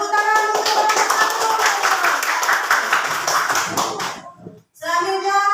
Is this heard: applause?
yes